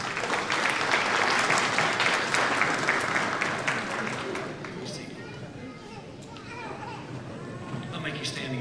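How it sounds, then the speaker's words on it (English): Graduating seniors and the crowd applaud at a school graduation ceremony, dense clapping filling the room for several seconds before fading into chatter and children's voices. "Seniors, please stand and give a round of applause for all the people who have helped you make it to this day."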